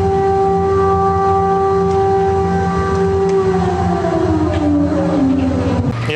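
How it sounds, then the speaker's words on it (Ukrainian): A loud electric civil defense siren wails with a sustained tone that slowly drops in pitch near the end, steady and alone. "Звичайно, електросирена не несе загрози."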